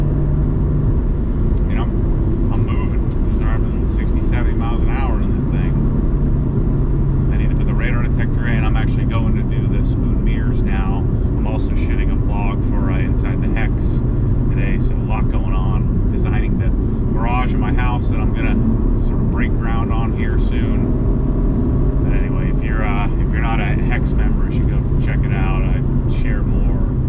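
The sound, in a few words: modified Honda Civic driving at highway speed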